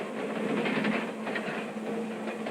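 A speeding mail train runs along the rails, with a steady, loud rumble and a repeated clickety-clack of the wheels running close by and alone.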